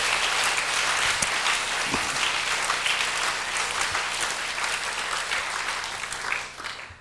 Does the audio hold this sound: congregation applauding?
yes